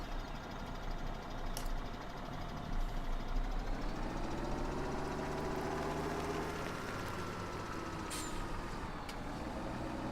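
Tractor engine from the video game Farming Simulator 17 drones steadily with a low rumbling idle and faint rising and falling tones, close and continuous, with no talking.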